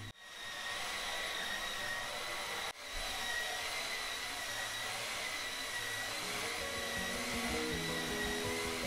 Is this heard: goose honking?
no